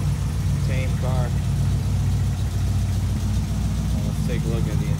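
A 1967 Ford Mustang idles close by with a steady low rumble and exhaust burble, while someone talks over it.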